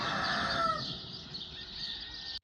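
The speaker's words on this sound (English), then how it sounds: "So you got this rooster talking to a peacock," Rooster crowing in Portugal, a drawn-out call with a strained, harmonic upper tone heard close and fairly loud, sustained for about two seconds before cutting off, no talk.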